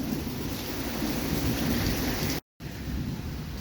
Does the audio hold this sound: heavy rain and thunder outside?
yes